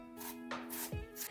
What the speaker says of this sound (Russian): Потом нарезаем мелко кубиками.